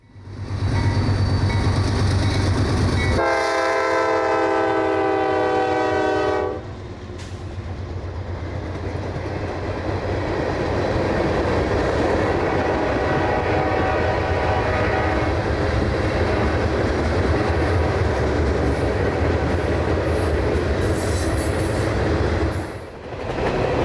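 Freight train L738, led by YN2-9 locomotive 9039, rumbles past loud and close, sounding a long multi-tone horn blast, then a sustained roar of rolling cars with wheel clatter and squeal that continues to the end.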